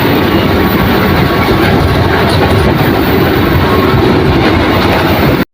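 A commuter train runs toward Bogor, heard from on board as a loud, steady rumble with rolling clickety-clack of wheels on rails, constant throughout before cutting off abruptly at the end.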